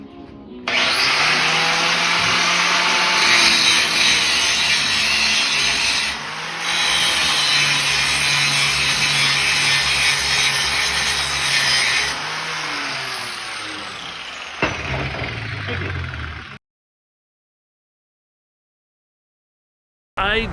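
An angle grinder working along the edges of a piece, loud and close, running steadily for about sixteen seconds with brief dips in load before cutting off into silence.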